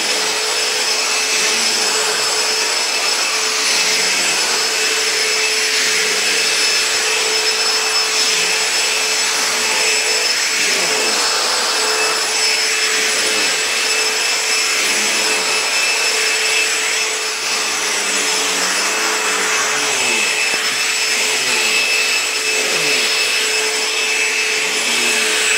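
A Vax Astrata vacuum cleaner runs on carpet with a loud, steady roar and a high whine held without a break from start to finish, close to the microphone and with no talk.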